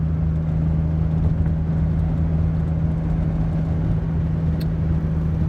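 Heard from inside, a 1981 DeLorean with its original PRV engine cruises at about 70 mph, giving a steady low drone of engine and road noise with no talking.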